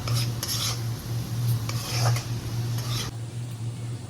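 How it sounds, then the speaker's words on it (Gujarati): Steady scraping and clinking of a utensil stirring flour into a mixture in a pan, continuous and close, with a low hum underneath and no talking. "હવે એને મિક્સ કરશું પ્રોપર."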